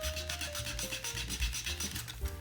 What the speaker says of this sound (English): You can also get this done with the file.